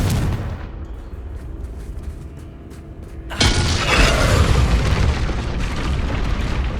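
Confringo fire spell cast in the Hogwarts Legacy video game, a sudden loud booming burst that rolls on as a broad rumbling blast for several seconds.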